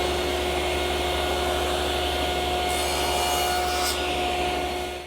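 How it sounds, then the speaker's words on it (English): Table saw blade cutting wood tenon shoulders as pieces are guided by a miter gauge, a loud continuous whirring drone with a brief higher rasp of the cut near the end. "I've set the depth of the blade to the correct height, and I'll guide the pieces through with my miter gauge"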